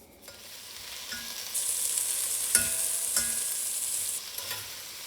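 Onions, carrots and celery sizzle in melting butter in a pot, a bright steady hiss that swells midway, with a few soft scrapes and taps from stirring, close and without speech.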